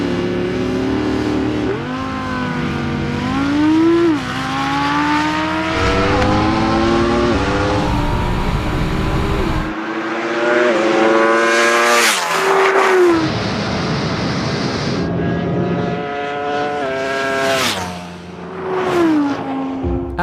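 An Audi R8 and a Ducati Panigale V4 launch side by side in a drag race, loud engines revving hard and climbing through the gears with sharp shifts, roaring close by throughout with no talk.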